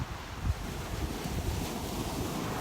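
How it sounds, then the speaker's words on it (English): Ocean surf washes onto a beach as a broad, steady rush blended with wind buffeting the microphone, with one slightly stronger surge near the start. "Pam, I know the waves are just fantastic today."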